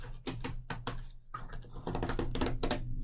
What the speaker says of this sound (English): So I'm just going to cut out one side.